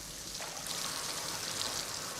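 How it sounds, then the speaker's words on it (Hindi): Steady rushing water pours and splashes continuously, a soft, even hiss like a small waterfall heard from nearby. "ये मैं जानता हूँ, ये एक झरना है।"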